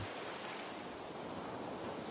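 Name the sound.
ocean waves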